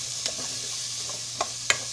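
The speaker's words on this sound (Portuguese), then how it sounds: "nessa gordura do bacon, eu vou dourar aqui, refogar aqui uma cebola roxa média" A medium red onion sautés in bacon fat, giving a steady soft sizzle broken by a few faint scrapes as it is stirred in the pan.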